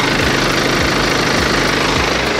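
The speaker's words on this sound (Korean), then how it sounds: "영상으로 엔진 소음 한번 담아보도록 하겠습니다." A BMW 5 Series M Sport diesel engine idles with the hood open, giving a steady, close, rumbling drone with a faint rhythmic knock and no talk over it.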